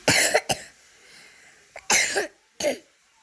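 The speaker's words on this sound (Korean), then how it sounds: "아, 기침" Several sharp, loud coughs close by: a quick pair, a brief pause, then two more separate bursts with quiet gaps between.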